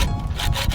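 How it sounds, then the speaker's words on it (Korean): Cutting through the khaki fabric of a Savotta Hawu 4 tent makes a steady close rasping, sawing scrape that runs continuously and fairly loud, with no talk. "요거 이렇게 옆면이랑 요 밑에 면 썰어서 테이블로 쓸 수 있을까 한번 잘라 볼게요"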